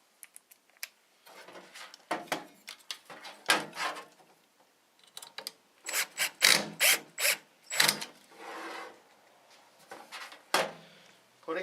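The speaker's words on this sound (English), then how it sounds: "lining up the screw holes. Reinserting the 2 side screws." Side screws go back into a Heat Surge electric fireplace, heard as a close run of quick ratcheting clicks and metallic rattles in bursts, with short pauses between turns.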